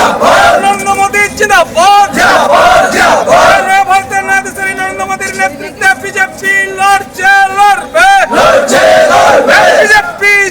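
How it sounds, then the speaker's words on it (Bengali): BJP supporters at Panagarh station boarding a Kolkata-bound train loudly chant Jai Shri Ram in a rhythmic group call-and-response, many voices shouting together at close range. "যারা আসছেন কর্মী সমর্থক তারা সোচ্চারে জয় শ্রীরাম স্লোগান দিতে ব্রিগেডমুখী হচ্ছেন"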